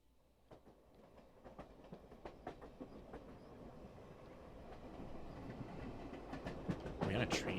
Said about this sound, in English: Are we on a train now?